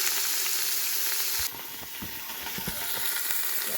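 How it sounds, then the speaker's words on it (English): A seasoned pot roast sears in hot oil inside an Instant Pot, giving a steady, dense sizzle and hiss with soft crackles throughout, fairly loud and close, with no talking. "While that's sizzling away"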